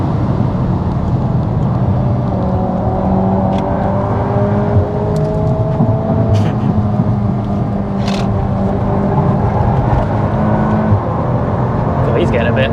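A VW MK8 Golf R driven flat out on a track day, its engine a steady loud drone and whir throughout, with people talking over it inside the car.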